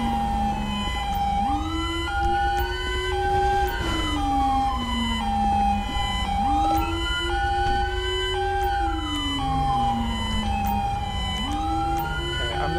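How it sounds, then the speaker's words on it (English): A continuous wailing emergency siren from a police patrol game set in Los Angeles-style streets, rising and falling in long sweeps over a steady tone and road rumble, loud and close with no talk. "Who's running their siren?"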